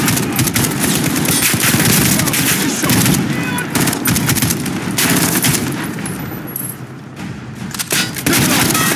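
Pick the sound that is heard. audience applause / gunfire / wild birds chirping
gunfire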